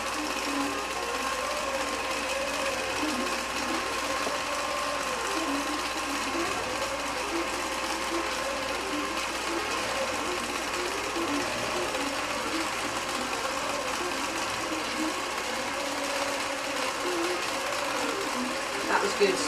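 A computerized long-arm quilting machine stitches a pantograph row across a quilt, its needle giving a steady, fast, continuous mechanical whir throughout, close and even.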